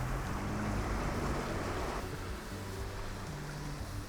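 A Land Rover Discovery Sport wades through deep water with a steady, loud rush and swash of water against the body and a low rumble underneath, and nobody is talking.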